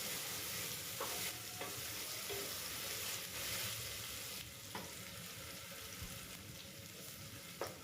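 Vegetables, including carrots, fry in a pan for vegetable biryani while being stirred. A soft, continuous sizzle runs throughout, with periodic scraping knocks from the spoon.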